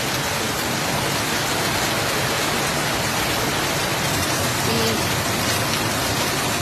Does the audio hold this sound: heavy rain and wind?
yes